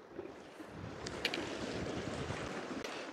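Steady wind buffets the microphone on the open sea during a windy night of rockfish fishing from a boat, a continuous low rumble with soft wave wash and faint knocks underneath, no talking.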